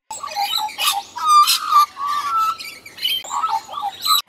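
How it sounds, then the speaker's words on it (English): Australian magpie calling, a run of bright warbling, chirping phrases with a few harsh notes, fairly close and clear with short pauses between bursts. "Number 4. Australian Magpie."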